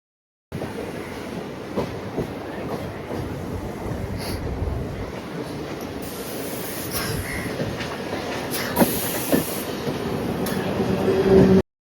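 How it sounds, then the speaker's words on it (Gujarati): A train rolls into a busy railway station in Mumbai, a continuous loud rumble with rhythmic clickety-clack of wheels, squeaks and crowd noise, building toward the end. "હાલો તો હવે ટ્રેન અમારી આવે, ટ્રેન ને ગોતીએ."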